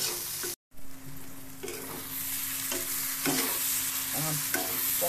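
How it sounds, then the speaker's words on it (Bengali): Pointed gourd pieces fry with turmeric, salt and spices in a pan, giving a continuous close sizzle with intermittent stirring clatters and one brief dropout, no speech. "আস্তে আস্তে মশলাগুলো অ্যাড করে পটলটা খুব ভালো করে ভেজে নেব"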